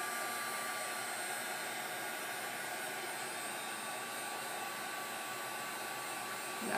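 A heat tool blows hot air to melt embossing powder for scrapbooking, a steady, even whooshing hum that continues without a break throughout.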